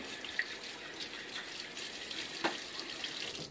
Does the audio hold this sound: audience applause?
no